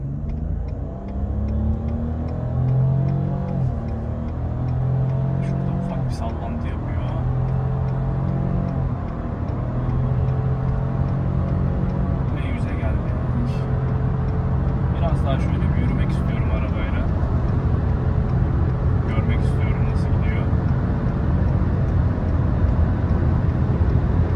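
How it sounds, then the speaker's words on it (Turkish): A Renault Clio 5 Icon accelerates from 0 to 100 at full throttle from a standstill, its engine revving loudly and steadily throughout with audible gear changes. Someone talks over it at intervals. "Evet arkadaşlar bir sıfır yüzüne bakacağız şimdi. Ayağım frende. 3 2, 1 ve dipteyim."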